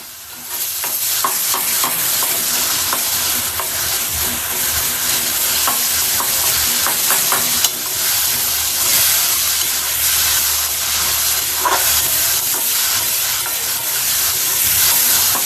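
Tomatoes frying in a pan for a mushroom sukka, a loud, steady hiss and sizzle with intermittent stirring scrapes, no voices.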